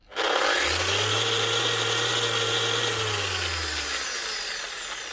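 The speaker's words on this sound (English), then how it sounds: "One Festool 6-inch orbital power sander" A Festool 6-inch orbital power sander, the RO150 FEQ, spun up in a workshop, starting abruptly and running as a loud, steady whir with a low motor hum that fades slightly near the end.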